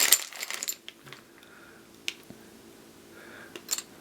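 Plastic dice and stands from the Doom board game handled on a table, several sharp clicks and light taps scattered over a few quiet seconds, close and fairly faint.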